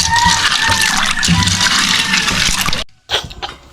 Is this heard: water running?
yes